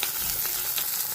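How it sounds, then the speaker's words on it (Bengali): Katla fish pieces fry in hot oil in a home kitchen, giving a dense, steady sizzle with a few brief crackling bursts, up close and without voices. "এখানে কাতলা মাছ ভাজা হচ্ছে।"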